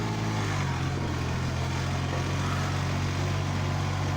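A small Yuta 24 hp tractor pulls a homemade cultivator with homemade tines, its engine droning steadily and fairly loud at a constant pitch with no break.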